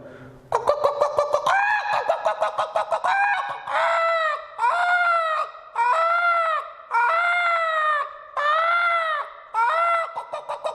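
A man imitates a chicken being caught, starting with rapid clucking and then giving loud, drawn-out squawks in repeated bursts, close and alone with no other talk.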